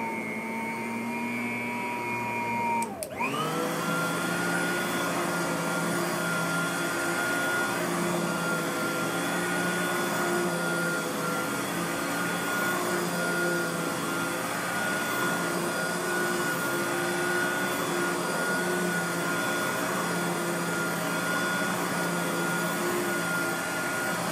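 A Riccar Supralite R10 upright vacuum cleaner runs with a steady whine, then a click about three seconds in as it switches from low to high speed, settling into a louder, higher, sustained roar.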